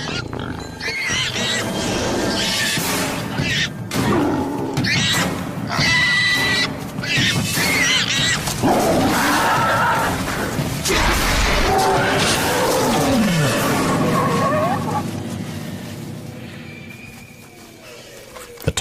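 A tiger in a wildlife documentary setting roars and snarls at close range, with loud, sustained growling swells and rasping calls across the clip, accompanied by other animal cries.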